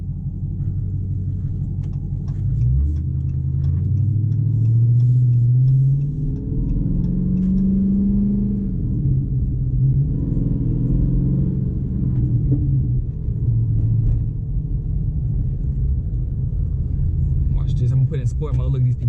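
Low, steady engine rumble from a 2021 Dodge Charger Redeye cruising in sport mode, heard from inside the cabin, with a swell of revving partway through and someone talking over it.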